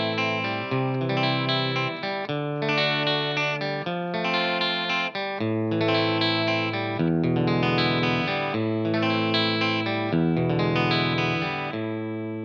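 Electric guitar with a distorted, chorus-laden tone plays a song interlude, a steady rolling pattern of arpeggiated chords in 6/8 time.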